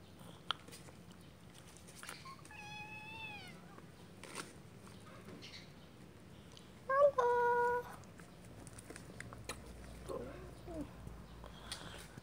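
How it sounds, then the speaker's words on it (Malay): Several cats jostling over food give a few short meows with harmonics, one louder cry midway, against low background rumble and scattered soft clicks; a person talks intermittently. "Eh, kucing malah rebutan."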